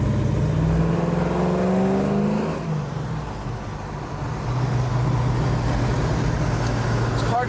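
A 1969 Chevrolet Camaro RS heard from inside while driving down the road, its engine a loud continuous drone that rises, dips briefly and climbs again, with faint road and wind noise and no talking.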